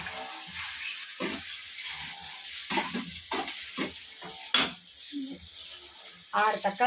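Onions and tomatoes sauté in a pan for a jackfruit seed dish, with a steady sizzle broken by repeated close scraping stirs of a spoon, while a voice speaks now and then.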